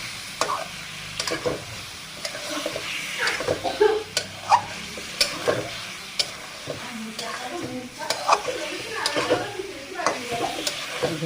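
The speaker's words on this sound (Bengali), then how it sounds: "শোল মাছটা কষায় নেব।" Snakehead fish fried and stirred in spice paste in a home kitchen, a steady low sizzle broken by repeated scraping stirs and soft clinks, close by, with no voices.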